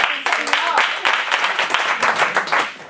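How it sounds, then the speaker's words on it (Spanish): A Spanish-speaking audience at a talk or workshop claps together in a dense, sustained round of applause that fills the whole stretch without pause. "le damos un aplauso"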